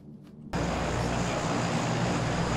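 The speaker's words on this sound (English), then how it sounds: "That plane went over me, so I didn't hear what you said." Airplane flying overhead in PUBG, a sudden broad roaring rush that starts abruptly after a quiet moment and holds loud and steady, with no talk.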